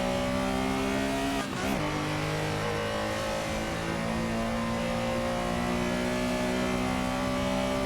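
A racing car engine in a VR racing simulator, held in third gear, drones loud and steady close up, with a brief dip and tire scrub early on before the revs pull back up and sustain.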